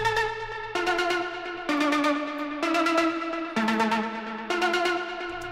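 A bright techno synth plays rapid repeating arpeggiated notes in bursts for a break section, shifting pitch every second or so, crisp and electronic with no voices.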